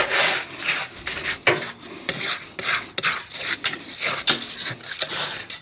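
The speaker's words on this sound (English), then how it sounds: "I just got a little 18-inch piece of rebar, little leftover piece. I'm just kind of working things around." An 18-inch leftover rebar piece churns and scrapes through wet concrete inside a 55-gallon drum, giving repeated loud gritty rasping strokes in an uneven rhythm, close up with no talking.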